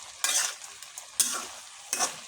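Vegetables stirred and fried in a pan give three distinct scraping bursts of a utensil over a soft sizzle, close and fairly quiet, with no voices.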